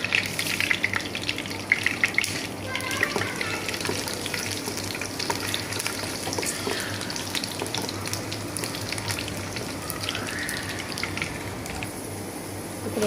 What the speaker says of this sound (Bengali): রসুন, পাঁচফোড়ন আর শুকনো মরিচটা টালা হয়ে গেছে